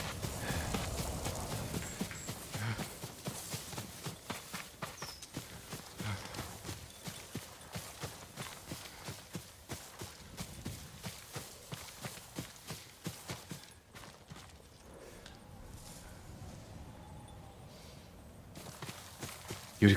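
Horse hooves clip-clopping at a steady walking rhythm in the video game Ghost of Tsushima, a long continuous run of close, evenly spaced hoof strikes that thins out and quiets toward the end.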